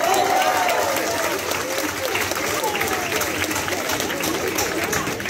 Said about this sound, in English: can we give a massive round of applause and energy for Tahmid and Zara for tonight?